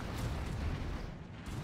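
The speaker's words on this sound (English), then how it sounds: "the disruptors should start shooting" Disruptor weapons firing in the Stellaris space strategy game, a dense rumbling barrage of booming bursts that runs steadily at moderate loudness with no gaps.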